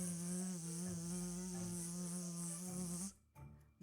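A steady, close insect buzz, like bees circling in a children's bedtime story, droning for about three seconds before cutting off abruptly.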